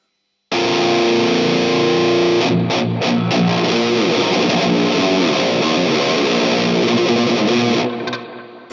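Heavily distorted electric guitar through a Randall RM100 amp with a Synergy BE module chugs loud and sustained, dense low metal riffing with brief choppy stops, then the ringing tone fades at the end.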